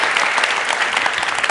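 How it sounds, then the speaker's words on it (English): Loud, dense audience applause at a public speaking talk, a steady wash of many hands clapping that fills the whole moment. "Give yourselves a round of applause."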